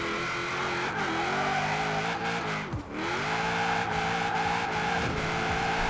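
A roughly 1000 hp Holden Commodore Group A drift build in Forza Horizon 4 holds a loud, steady high-rev engine drone in a high gear, with faint tire squeal and one brief dip in revs partway through.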